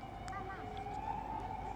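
Police car siren on a street in Moldova, a steady wailing tone running through the whole stretch over a busy background, moderately distant.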